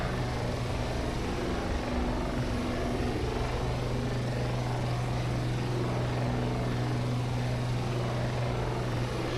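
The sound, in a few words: Shergood S64 helicopter flying in a flight simulator game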